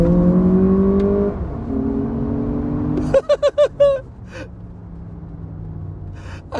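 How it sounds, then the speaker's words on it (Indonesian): A 2025 Lexus RX500h F-Sport+ hybrid accelerating in sport mode, its engine note climbing and shifting pitch close up, followed by a burst of short, sharp rhythmic pulses and a quieter steady hum. "jadi ada suara raungan mesin ketika kita di mode sport"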